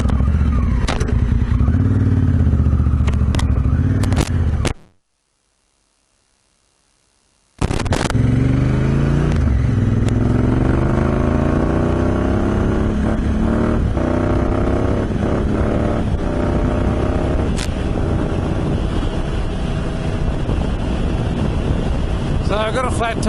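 A motorcycle with a flat tyre rides along on a desert trip, its engine droning loud and close with heavy wind buffeting throughout, broken by a few seconds of silence early on.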